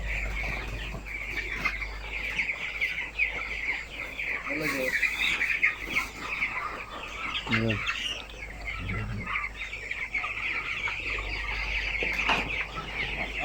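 Several broiler chickens on a poultry farm, some paralysed, cluck and call repeatedly nearby, with an occasional louder squawk over a constant low background hum.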